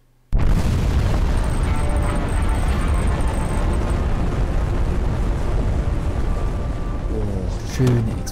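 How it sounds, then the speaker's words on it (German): A loud, sustained explosion from the Just Cause 2 video game erupts abruptly after a brief silence and rumbles on for several seconds, with further bursts near the end. "Schöne Explosion, richtig schöne Explosion."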